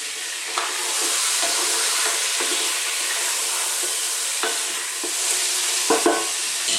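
Chicken pieces fry on a fairly lively heat in a pan for an Italian-style chicken vegetable stew, giving a steady, close sizzle broken by a few brief stirring clatters.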